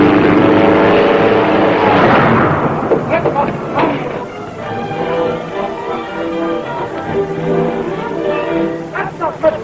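A loud propeller aircraft engine, running rough, drones and sputters unevenly nearby, with a voice speaking over the rough, throbbing motor.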